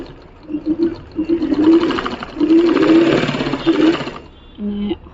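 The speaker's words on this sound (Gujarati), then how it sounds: "દાબની સિલાઈ આની અંદર મારવાની છે." A sewing machine stitches the neckline of a dress in several short whirring bursts with brief pauses between them, loud and close, followed by a small mechanical hum at the end.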